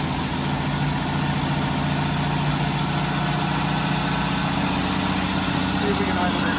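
Steady, close idle of a 1985 Jeep CJ7 engine running on Holley Sniper EFI, a constant low rumble that holds evenly throughout.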